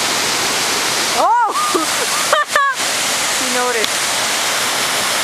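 Waterfall in Sequoia National Park, a loud, steady roar of rushing water filling the whole clip while voices exclaim and speak over it.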